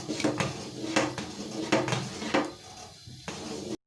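Spoon stirring hot and sour soup in a pot as egg is added, a series of close clinks and scrapes against the pot at an uneven rhythm before cutting off abruptly.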